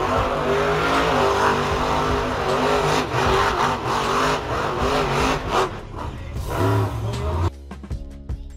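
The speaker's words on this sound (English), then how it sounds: "The Joker, this monster truck takes inspiration from the famous villain in the Batman series" A Joker-themed monster truck, painted purple and green, with its engine roaring and revving loudly and steadily, rising and falling in pitch, before cutting off abruptly near the end as other noise continues.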